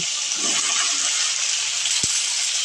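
Chopped potatoes dropped into a pan with chopped tomato, frying with a steady, close, bright sizzle that holds evenly throughout, with one soft knock near the end.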